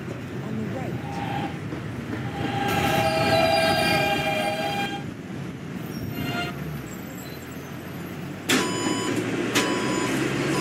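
An E subway train sits and moves at a station with steady rumbling, squealing wheel tones and a chime, while an automated announcement voice speaks over the noise.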